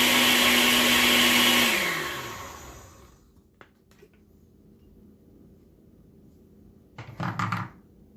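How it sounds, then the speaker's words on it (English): A blender whirs loudly for a couple of seconds, then winds down to silence; a few light knocks and a brief rattle follow. "when you put your stuff in the blender and you're getting ready to use it"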